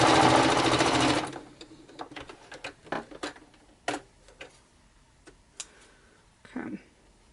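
A sewing machine runs in a sustained loud burst while stitching fabric clusters, then stops, followed by scattered light clicks and handling taps of fabric and parts, with a faint voice briefly near the end.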